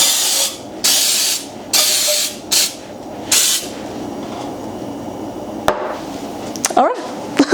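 Several short bursts of Baker's Joy aerosol baking spray hiss in quick succession, close up over a sink, followed by quieter clatter and a brief high squeak.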